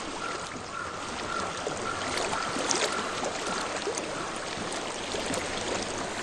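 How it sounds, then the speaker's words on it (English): Flowing water in the video game Hellblade: Senua's Sacrifice, a steady, fairly loud rushing stream with constant hiss and trickle throughout, no voices. "I can hear water."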